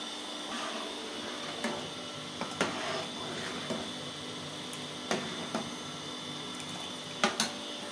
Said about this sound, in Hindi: आपको किचन में क्लियर आवाज़ नहीं आ रही होगी क्योंकि पानी की मोटर चल रही है